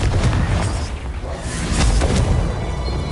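An explosive Confringo spell bursts in Hogwarts Legacy on Hard difficulty, a dense, loud rumbling blast that fills the whole clip with a continuous roar and a few sharper cracks.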